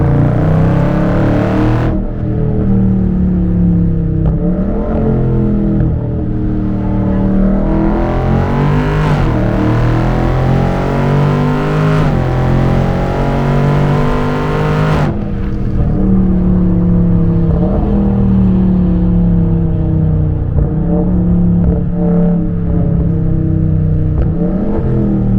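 Dodge Scat Pack car accelerating hard to high speed, a loud close engine roar climbing through repeated gear pulls with rising and falling pitch sweeps, sustained throughout with no talking.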